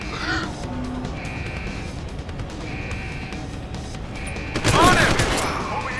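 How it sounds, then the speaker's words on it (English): Gunfire erupts in Deus Ex: Human Revolution during a suppression-fire exchange: a short, loud burst of rapid shots near the end, over steady game background noise and faint voices. "Suppression fire!"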